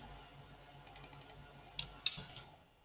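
A computer keyboard is typed on quietly, a short burst of soft key clicks followed by a couple of sharper isolated taps in a quiet room.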